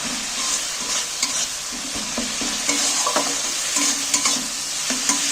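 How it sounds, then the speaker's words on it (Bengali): A red chilli masala paste with a splash of water is stirred and fried in a pan for a spinach and moong dal dish, giving a steady, close sizzle broken by scraping strokes of a spoon. "এইবার আমি সামান্য একটু জল দিচ্ছি মশলাটাকে কষিয়ে নেব ভালো করে"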